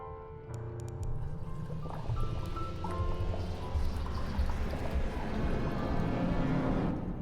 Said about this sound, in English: Drain water.